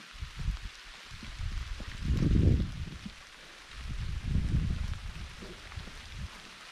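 Steady, soft rain patters in a forest in the background while low rumbling swells rise and fade, faint and distant.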